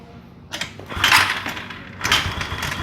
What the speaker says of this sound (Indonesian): Nah, motor sudah nyala lagi.